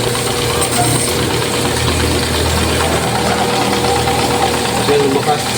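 A Kawasaki KC25 pressure washer engine runs steadily and loudly up close, a continuous mechanical drone with knocking texture throughout, while people talk over it.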